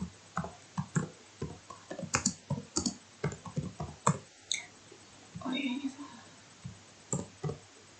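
Keys tapping on a computer keyboard while entering values into a Matlab program, a run of separate clicks in short bursts, fairly close, with a voice talking over them.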